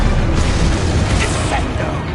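A loud, dense booming blast from the Confringo spell in the Hogwarts Legacy video game fills the whole moment, a sustained crackling roar with a voice shouting over it.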